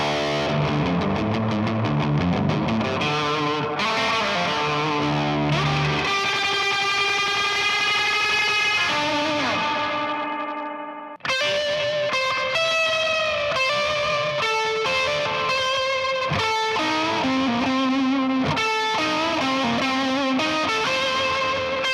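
Electric guitar runs through overdrive and reverb pedals, playing surf-style lines with a distorted, ringing tone that stays loud and sustained, with a brief drop near the middle before it resumes.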